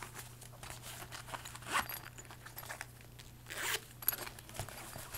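A handbag compartment zipper is pulled in a few short rasping strokes, quiet and close, with faint rustling of the bag in between.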